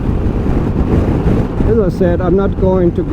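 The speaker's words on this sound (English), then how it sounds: "it's pretty windy again here today" Heavy wind buffets the microphone while riding a Piaggio MP3 500 HPe Advanced three-wheeled scooter, a loud low rumbling roar that runs throughout as someone talks over it.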